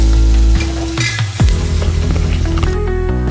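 Sambar masala with chopped tomato fries in a pan for drumstick sambar, a steady loud sizzle broken by scraping stirs of a spoon, with a faint hum underneath and no talk.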